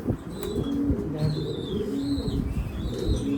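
Pigeons in a loft give soft, low repeated coos over a busy background of bird calls and faint rustling, fairly close and continuous.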